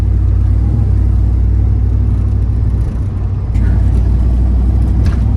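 A ZL1500 car with a 10-speed transmission drives on the road, its engine giving a steady, loud low rumble and whir. A brief dip comes midway, then the drone picks up again.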